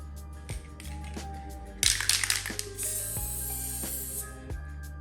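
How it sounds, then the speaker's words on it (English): A spray adhesive can releases a hissing burst of spray lasting a few seconds, with faint clicks and handling noise around it. "It's the spray adhesive?"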